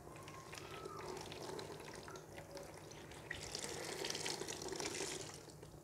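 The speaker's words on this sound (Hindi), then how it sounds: "उसके बाद से आप इसको निचोड़ सकते हैं" Cloth soaked in homemade arrowroot liquid starch is wrung out by hand, water trickling and dripping steadily into a basin, soft and close with a brief splashier surge near the end.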